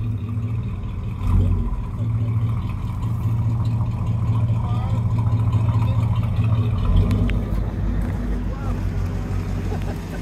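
Someone's big red car, restarted after refusing to start, runs with a steady engine drone and wind buffeting the microphone while people talk over it.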